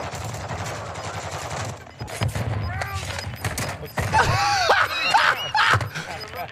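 Short bursts of video game shooter gunfire pop in scattered clusters, growing denser and louder toward the end, mixed with excited talking voices.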